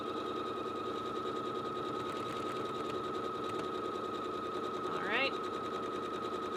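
A sewing machine stitches a buttonhole with a fast, steady, faint mechanical hum and rhythmic needle pulsing, and a brief rising whir near the end.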